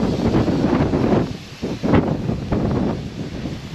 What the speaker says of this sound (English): It's a bit windy today, sorry, I hope you can hear me.